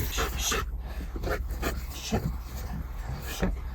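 A police service dog pants rapidly and rhythmically up close during search training, with a few small whimpering sounds mixed in.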